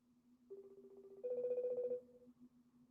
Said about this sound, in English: It's just going to keep ringing.